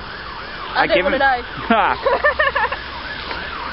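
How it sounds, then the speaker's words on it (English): A police car siren passes with wavering rising and falling wails, loud and close, while a person speaks over it. "Police car's coming"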